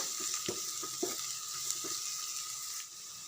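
Chopped spring onion frying in a pan, a steady close sizzle with several soft clinks and scrapes of stirring in the first half, fairly quiet and with no voices.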